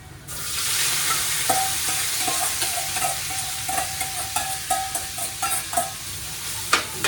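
Pork tapa frying in oil gives a steady close sizzle, with a run of sharp clinks and scrapes from stirring building toward the end.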